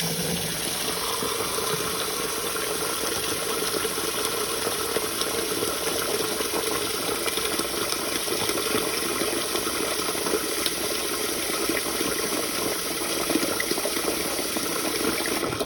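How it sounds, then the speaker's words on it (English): Cold tap water runs steadily over rice being rinsed for Jamaican rice and peas, a continuous close broadband rush with no pauses. "it's cold water that I'm using to wash the rice"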